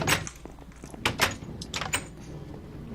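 A door opening and closing inside a blacksmith and foundry building in a video game server village, heard as a few sharp clanks and knocks over a noisy background.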